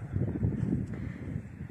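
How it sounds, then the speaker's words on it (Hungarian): Strong wind buffets the microphone outdoors in a garden on May Day, a steady low roaring rumble with gusty fluctuations, loud and close throughout, with no talk. "Nagyon-nagyon fúj a szél."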